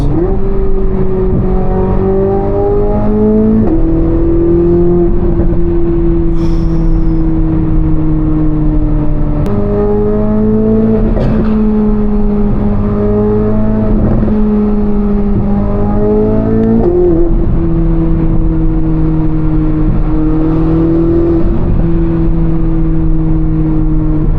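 A Corvette C8 Z06 with Z07 package revs repeatedly through its stock exhaust, its pitch climbing and dropping in steady surges, loud and close throughout.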